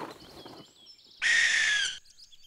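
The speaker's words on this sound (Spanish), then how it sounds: "ese búho es una lechuza" In an animated children's show, a barn owl lets out a single loud, harsh rasping screech lasting under a second, set between softer chirping bird calls.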